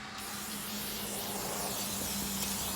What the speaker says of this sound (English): Next thing you want to do, brake cleaner.